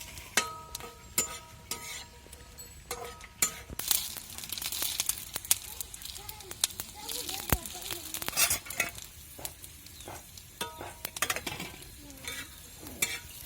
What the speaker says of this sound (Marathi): खोबरं असं मस्त लालसर भाजून घ्यायचं चांगलं कच्चं नाही ठेवायचं